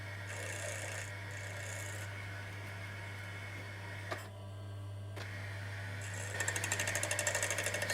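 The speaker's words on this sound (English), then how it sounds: "So we're just turning the front of the lugs off here." A lathe turns metal off the front of a watch case's lugs. A low steady hum runs beneath soft scraping, a brief pause in the middle, then quick rattling chatter toward the end.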